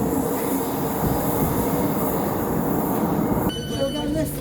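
An old Newcastle Metro train at a station, a loud rolling rumble with rail noise that ends in squealing brakes and high metallic ringing as it slows.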